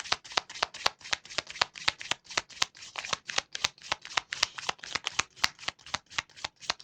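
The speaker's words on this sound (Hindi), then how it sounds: "let me shuffle the card" Tarot cards shuffled in a steady riffling rhythm, a long run of quick, crisp flicks repeating evenly, close and fairly quiet with no talking.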